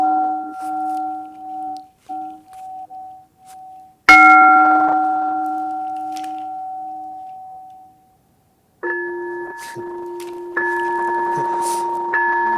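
A bell is struck several times with clear metallic rings. Early on a few quick pulsed tones sound, then a loud strike decays slowly over several seconds, and after a brief silence the ringing returns with sustained overlapping tones.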